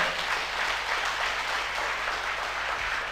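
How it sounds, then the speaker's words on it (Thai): A Thai business seminar audience claps in sustained, dense applause that holds steady for the whole three seconds, with no one speaking over it. "ผมอยากจะให้ทุกคนเนี่ยปรบมือให้กับคนที่แนะนำคุณมาในวันนี้หน่อย"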